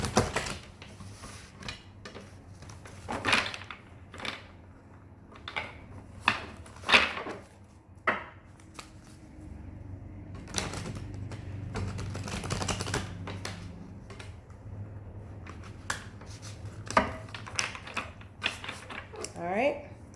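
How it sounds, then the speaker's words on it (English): Tarot cards are shuffled in a series of crisp riffling and tapping bursts of varying loudness, with faint speech in the background. "Let's get 2 more shuffles for the Divine Feminines."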